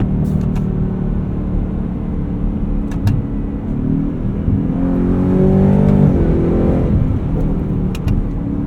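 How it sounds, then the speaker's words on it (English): From inside a 2024 Ford F-150 Raptor R, the engine hums steadily and then gives a couple of quick rising rev blips as the paddles downshift, a loud, full rumble heard up close. "Let's play with the paddles some. Good blips on downshift."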